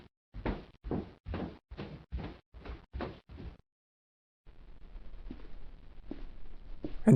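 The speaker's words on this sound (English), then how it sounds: "Once you close your eyes, you hear a door open." A door opens in a horror video game: a run of about eight evenly spaced, loud thuds or creaking pulses, then a gap of silence and a quieter, sustained rustling room tone.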